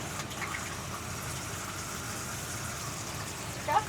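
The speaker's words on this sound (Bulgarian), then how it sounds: "Пускаш водата да потече известно време." Water runs steadily into a camper toilet bowl during a flush, a continuous broadband rushing that stays even throughout, ending with a brief louder splash near the end.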